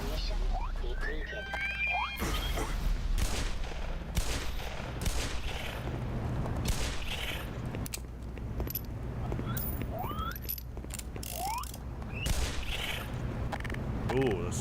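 Revolver fire in the Black Mesa remake of Half-Life: several sharp, loud shots spaced irregularly through the stretch, with clanking mechanical game effects and someone talking over the action.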